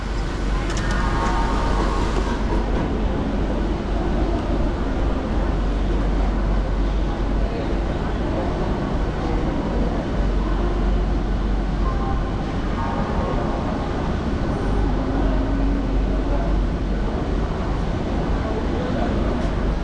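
A local train runs from Howrah toward Digha, filling the scene with a steady, loud rolling rumble and rattle that continues unbroken for the full twenty seconds.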